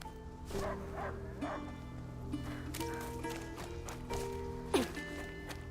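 A dog barks several times in short bursts over a steady musical backdrop with a synthetic, game-like quality, from the video game A Plague Tale: Innocence.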